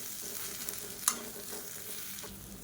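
Spices with turmeric powder sizzle in oil while being stirred in a pan for an oil brinjal curry, a steady close frying hiss broken by a few sharp scraping strokes.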